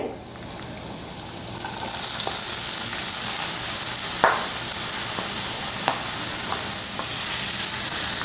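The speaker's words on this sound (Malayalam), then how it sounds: "ഇതൊന്ന് വഴറ്റിയെടുക്കാൻ നന്നായിട്ട് കുറച്ച് ഉപ്പും കൂടി ചേർത്ത് വഴറ്റി കൊടുക്കാം" Chopped onions, three small ones with a pinch of salt, sautéing in a pan for chicken cutlets, giving a steady close sizzle with occasional stirring clicks and scrapes throughout, no voices.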